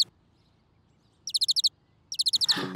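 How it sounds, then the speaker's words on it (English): A bird chirps in two quick bursts of rapid, high-pitched repeated notes, close and clear against near silence. "A bird."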